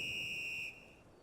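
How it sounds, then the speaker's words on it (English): In the video game Farming Simulator 22, a single steady high-pitched whistle sounds for under a second and then cuts off, leaving quiet background. "Just a big whistle"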